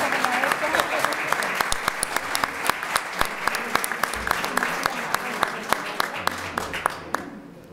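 A crowd at a formal award ceremony applauds as an insignia is presented. Sustained, dense clapping holds steady, with a few sharper individual claps standing out, then fades away in the final second.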